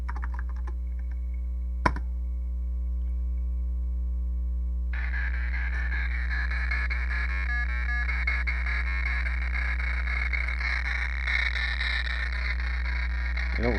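Frogger video game sound played on a Tandy 200 emulator through a sound amplifier, heard as a steady buzzy electronic tone joined after a few seconds by harsher chiptune-like warbling, continuous over a low hum, with a single sharp click near the start.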